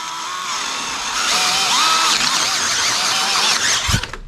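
A power drill whines loudly and steadily as it bores a hole during work on a Jeep WJ build, its pitch wavering slightly under load before the bit stops with a thump.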